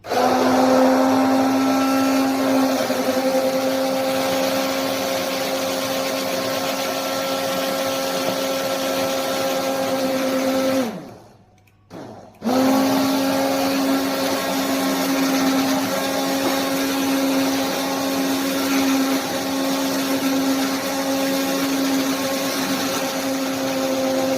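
A loud electric blender whirs steadily while blending iced coffee, stops for about a second, then starts again and keeps running at the same even pitch.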